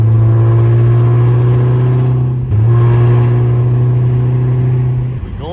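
A Chrysler with a Redeye engine accelerates onto a freeway, a loud close engine drone climbing steadily in pitch, breaking briefly for a gear change, then rising again before easing off.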